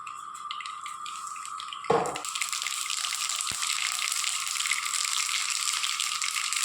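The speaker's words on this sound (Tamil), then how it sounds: "கடுகு நல்லா பொறிச்சிருக்குங்க" Mustard seeds splutter in hot oil with steady crackling and sizzling, rapid popping spatter after a brief clatter, continuous and fairly close.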